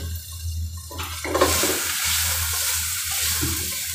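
Food sizzling and crackling loudly in a hot pan while making sour mac and cheese, a steady hissing fry with stirring noises, close up.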